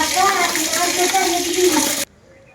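Dirty vegetables being washed in water for a village lunch, a steady close splashing and running-water rush that cuts off abruptly near the end.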